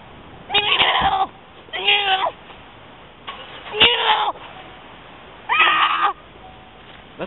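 A human voice imitates a distressed kitten meowing, giving four drawn-out, wailing mews separated by short pauses, close and fairly loud with no other talk.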